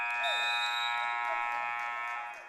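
Sustained electronic buzzer marking the end of a quarter at an indoor league basketball game, a loud steady tone holding for about two seconds before fading at the end, with no talk over it.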